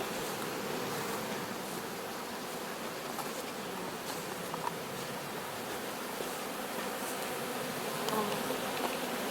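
Honeybees foraging on flowering phacelia outdoors, a dense continuous buzz of many bees at moderate distance, steady and unbroken with a few louder passes nearby.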